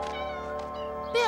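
A cartoon kitten meows in a short, high, wavering cry that brightens into a louder, sharper mew at the end, with a steady musical background underneath.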